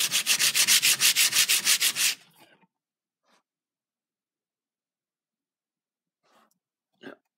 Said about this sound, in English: Let's scratch it some more.